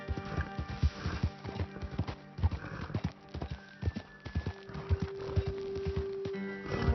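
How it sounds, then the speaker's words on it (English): Horse hooves clip-clopping at a walk in Red Dead Redemption 2, a close, rhythmic series of hoof strikes on hard ground with a quiet game ambience behind. "Let's park my horse over here"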